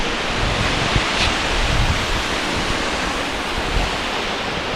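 Water released through the gates of the century-old Bariyarpur dam in Panna rushing downstream as a river, a loud, continuous roar of turbulent flow heard close up with no voices.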